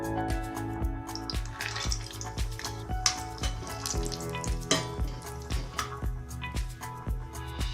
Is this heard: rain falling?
no